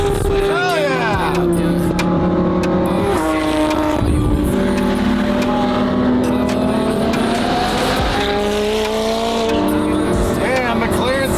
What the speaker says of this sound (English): McLaren sounds so sick